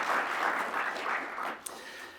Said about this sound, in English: let's have a round of applause for our pianists